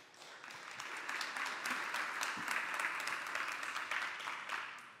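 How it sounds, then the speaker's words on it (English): Audience applause at a talk, a steady wash of many hands clapping together, moderately faint and sustained, tapering slightly at the end. "Let's have a big round of applause."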